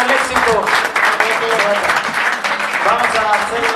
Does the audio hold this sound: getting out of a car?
no